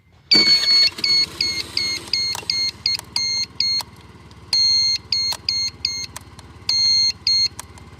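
Custom horn signal on an RKS Spontini 110 scooter, sounding a repeated pattern of loud, bright electronic beeps in short and longer bursts over a low idling engine.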